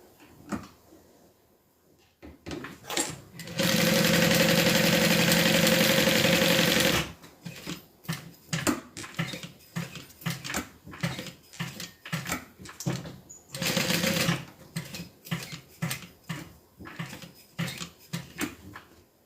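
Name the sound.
sewing machine stitching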